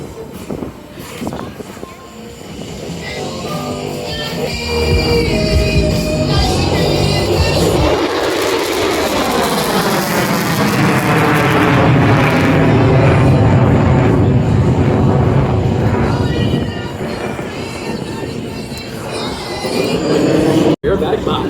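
F-35 fighter jet flying a flat pedal turn at the Orlando Air Show 2023, its engine roar building from quiet to a loud, sustained, wavering jet rumble that passes and lingers, with an announcer speaking over the crowd.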